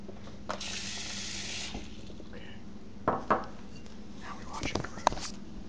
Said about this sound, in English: You want to turn the water on?